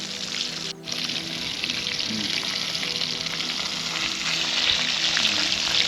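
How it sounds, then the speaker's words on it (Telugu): Gaddimosu fish deep frying in hot oil, a steady loud sizzle and crackle that holds throughout with no voices. "అంతా డీప్ ఫ్రై ఎండింగ్కి వచ్చింది."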